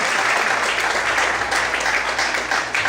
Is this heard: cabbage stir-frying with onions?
no